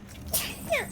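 A character sneezes in the video game Death Stranding, a short, sharp burst over faint in-game ambience, followed by a second breathy exhale a moment later.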